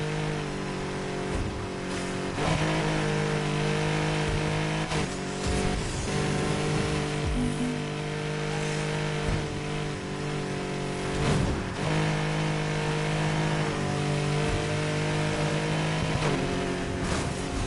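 Porsche 911 engine in a racing video game, a steady loud droning roar with layered harmonic tones that rise and fall through gear changes and revs, continuous for the whole stretch with no talking.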